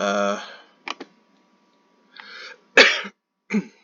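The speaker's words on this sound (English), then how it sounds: "you probably heard it in that cough too" A few short, harsh coughs and throat-clearing bursts up close, separated by silence, with a brief voiced sound at the start.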